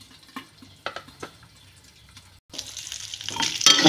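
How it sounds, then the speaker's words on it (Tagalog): Bean sprouts and carrots being sautéed with tomato in a pan, starting with a few scattered stirring clicks, then a loud sizzle that rises and keeps building, close by with no speech. "gisa natin sa kamatis ulit"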